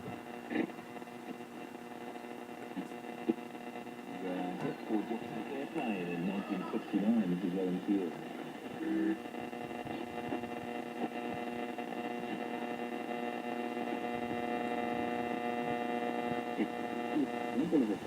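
Sideband signal received on a Zenith 6S632 shortwave radio, heard as a faint garbled voice-like warble riding over a steady hum and static hiss, fairly quiet and continuous.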